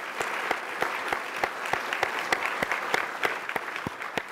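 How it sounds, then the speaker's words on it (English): Guests at a 25th anniversary gala dinner applaud with steady clapping. Sharp individual claps stand out in a fairly even rhythm over a softer crowd bed, moderately distant. "let's give a round of applause"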